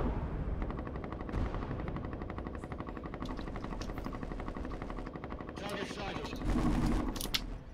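Rapid automatic gunfire rattles steadily through a video game battle, loud and continuous with a heavier burst near the end, while a player talks over it.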